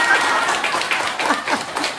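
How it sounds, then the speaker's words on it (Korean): Brief round of applause from a group of students on an educational museum field trip, dense clapping with voices mixed in, moderately loud throughout. "박수."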